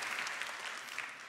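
A church congregation applauds during a sermon, a steady wash of clapping from many hands heard at moderate distance with no pauses.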